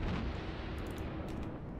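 Main guns of the Russian cruiser Mikhail Kutuzov firing in World of Warships make a loud, rumbling boom that fills the short stretch and stays dense and heavy throughout.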